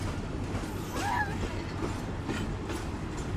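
A Pakistan Railways passenger train, once a premium service, rolls along the tracks with a continuous rumble and rhythmic clatter, a brief squeal of wheels rising over it, heard at moderate distance with no clear talk.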